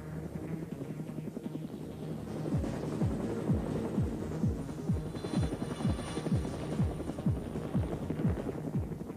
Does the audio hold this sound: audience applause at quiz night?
no